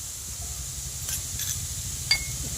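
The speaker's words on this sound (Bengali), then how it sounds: "এবার ভালো করে কষিয়ে নেব আলুর সাথে মশলাটা।" Potatoes and spices fry in a hot pan, a steady soft sizzle interrupted by a few brief scraping stirs, close by with no talking.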